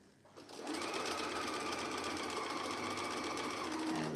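A sewing machine runs steadily, stitching a seam within the seam allowance on an Amelia jacket, a continuous close whirring drone from about half a second to the end with no talk over it.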